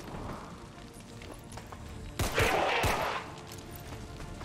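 A single gunshot in the XCOM 2 video game, fired at a riot trooper. It is a sharp, fairly loud crack with a brief burst of noise after it, set over low game ambience.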